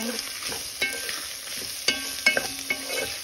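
Pressure-cooked beef neck bones sautéing in a pan, a steady sizzle with several sharp clacks and scrapes from a utensil stirring and turning the bones, close and fairly loud with no talking.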